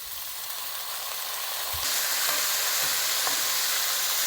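Buckwheat being fried in a pan goes from a steady sizzle to a louder, brighter hiss partway through, with a few stirring scrapes, close up and without talk.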